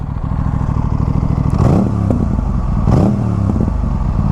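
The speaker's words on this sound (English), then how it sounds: "I'm going to give it a rev." An Aprilia RS 457 motorcycle with a GPR aftermarket exhaust, dB killer on, idles loudly with a rough, throaty rumble, then revs up twice in quick, rising bursts with crackling pops.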